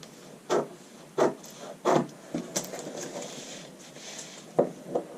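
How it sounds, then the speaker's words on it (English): Scissors cut out a paper under-collar pattern piece for a notch-collar top, with crisp rasping snips repeating about every second at close range and no one talking. "Let's go ahead and cut out your under collar."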